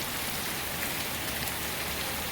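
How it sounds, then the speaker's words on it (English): Heavy rain pours outside a house yard during a storm, a dense, constant broadband hiss of drops striking surfaces, loud and close with no voices. "It's raining pretty hard out here too."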